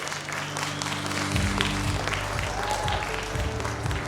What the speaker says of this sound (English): Please give a warm applause for the Angelos.